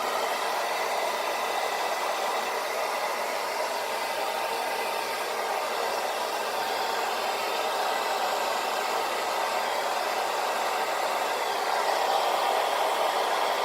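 A hair dryer set to medium heat blows steadily on a beard during grooming, a constant close, loud rushing whoosh that runs unbroken for the whole stretch with no voices.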